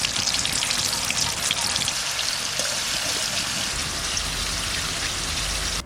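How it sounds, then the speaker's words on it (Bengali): Paneer frying in hot oil in a wok, a close, steady crackling sizzle with scattered pops and spatters throughout. "এবার পনিরটাকে ভেজে নেব।"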